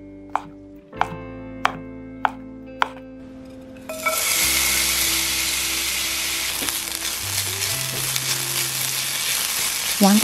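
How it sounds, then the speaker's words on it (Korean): A few sharp knife chops on a board, then onion, mushrooms and tomato hit a hot pan and stir-fry with a loud, continuous sizzle and occasional stirring scrapes; no voices. "양파를 넣어 부드러워질 때까지 볶은 후 썰어놓은 버섯과 토마토를 넣어 노릇하게 볶으세요."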